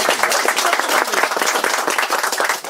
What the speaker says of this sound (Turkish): Alkışlıyorum arkadaşlar.